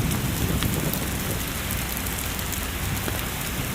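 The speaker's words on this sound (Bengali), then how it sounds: "আর ভাই বৃষ্টি পড়ছে ভালোই জোরে" Heavy rain pours down in a dense, constant hiss with drops drumming on nearby surfaces, loud and close, with no voices.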